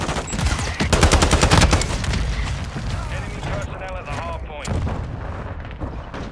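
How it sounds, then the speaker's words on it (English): Mortar strike explosions in the video game Modern Warfare 2, a loud rapid volley of booming blasts and gunfire that peaks early and then settles into scattered rumbling, with people talking over it. "That's my mortar strike."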